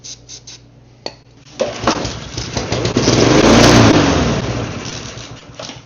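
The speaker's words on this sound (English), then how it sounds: "let's see if it'll start on carb cleaner" A rough-running lawn mower engine, primed with carb cleaner and with a badly dirty carburetor, gives a few clicks and knocks before catching, then sputters into a loud, uneven revving roar that swells and slowly tapers off.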